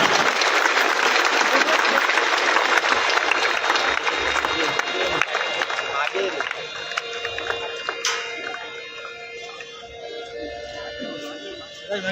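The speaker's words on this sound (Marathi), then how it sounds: "सर्वांनी जोरदार टाळ्या वाजवूया" Sustained applause from a large crowd outdoors at a flag hoisting outside the Kankavli tehsildar office, loud and steady throughout, with scattered voices mixed in before it gradually thins out.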